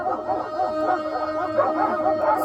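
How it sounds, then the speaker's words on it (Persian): A dog barks and yips in a continuous run of sharp, tonal woofs with whimper-like howls, fairly close and steady, with music-like tones under it. "صدا واق سگ که همه جا هست میدونی؟"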